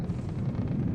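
A ship exploding in the naval combat game From the Depths gives a deep, sustained rumbling roar, dense and steady across a brief moment with no voices.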